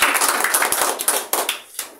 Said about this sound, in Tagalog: Palakpak mo yan sa Panginoon.